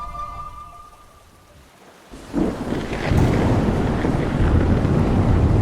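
Rain builds from a quiet patter into a loud, steady downpour with a low rumble, heavy and close throughout.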